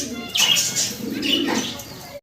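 Caged doves flutter and flap their wings in two close, brisk bursts, with soft cooing blended into the rustling.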